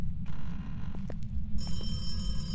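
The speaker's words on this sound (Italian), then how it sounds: "Mi sono entrato in un'aula e ha squillato il telefono." Telephone ringing inside a classroom in the horror game Phasmophobia, a steady electronic ring with high tonal lines over a constant low rumble of ambient noise, mid-distance.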